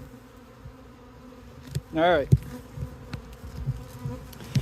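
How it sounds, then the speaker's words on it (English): A loud insect buzz swells for about half a second amid a steady background hum of bees, with a brief word spoken nearby. "Well, there's the bees."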